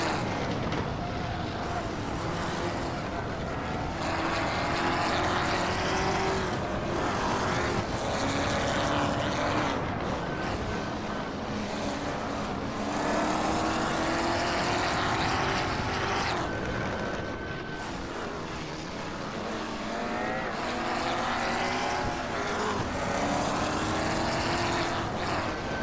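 A Ford GT40 race car roars in the Hot Wheels: Universe Zero video game, a loud continuous engine drone with rising and falling pitch as it shifts through gears, alongside other racing cars.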